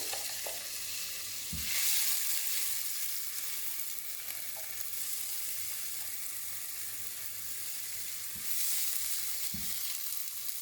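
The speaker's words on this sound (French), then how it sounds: "je viens ajouter mon échalote hachée. On va faire revenir le tout." Chopped shallot sautés in olive oil in a hot pan for a quick tuna pasta, giving a steady close sizzle with a few soft knocks from stirring.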